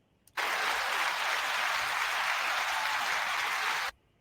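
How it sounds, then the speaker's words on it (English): Audience applause at a veterans' suicide-prevention event, a steady burst of clapping lasting about three and a half seconds that starts and stops abruptly. "Everyone needs applause, brother."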